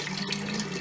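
Active yeast poured into a jug for a homemade Sapporo clone beer, a steady close-up trickle and splash of liquid running without a break.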